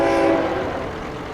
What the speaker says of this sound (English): The train had to stop, was honking at me